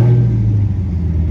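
A car engine revs loudly up close, a deep throaty rumble that holds steady with a slight dip midway.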